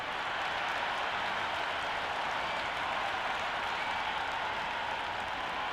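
Crowd at a cricket ground, Adelaide Strikers against Sydney Thunder, applauding and cheering just before play begins, a steady, even wash of distant clapping and crowd noise throughout with no individual voices standing out.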